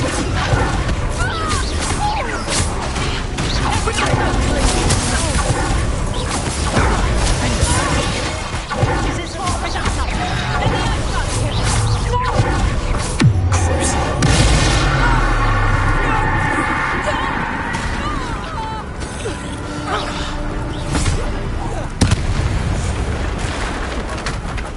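Magic spell blasts and explosions in the game Hogwarts Legacy, a dense run of booms, crashes and whooshing impacts over most of the stretch, with talking mixed in throughout.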